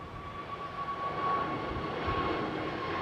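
An Aer Lingus Airbus A321 long range jet at London Heathrow, a steady broad engine roar with a thin sustained whine, even and fairly loud throughout with no talking.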